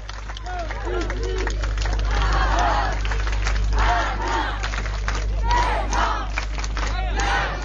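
Spectators at a swimming event in Nice cheer and shout in waves for the swimmers, loud excited voices over scattered applause, with a low steady hum beneath the crowd.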